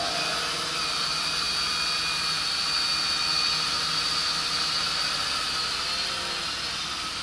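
A steady, high-pitched whine of the small rotors of a DFD F183 drone flying, droning continuously at close range, with constant loudness throughout and no voices.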